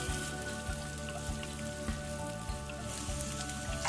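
Onion sizzles and crackles steadily in a hot pan with green chillies and garlic for a radish chutney, a soft, constant fry with faint stirring taps throughout.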